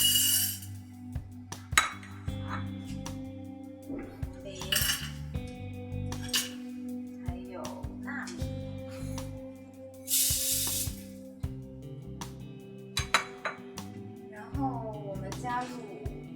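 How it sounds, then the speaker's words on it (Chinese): Rice and other ingredients go into a pot, with intermittent clinks of spoons and bowls, pouring rustles and a bright burst of spilling grains, while a person talks quietly in between. "接下来我们把所有的食材放入锅里。"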